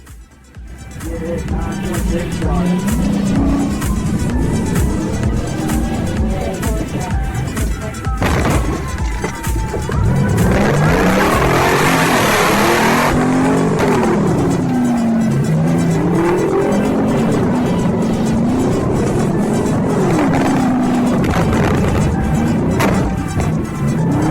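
A fleeing car races through streets during a police chase, its engine revving hard with tire squeals and skids, loud and close, amid jolts of impact from attempted pit maneuvers.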